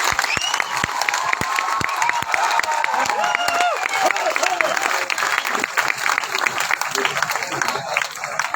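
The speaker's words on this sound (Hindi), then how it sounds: "सुरेखा मैडम के लिए एक बार जोरदार तालियां से" A large audience at a training event in Ahmedabad breaks into loud, sustained applause, with dense clapping and some cheering filling the whole stretch.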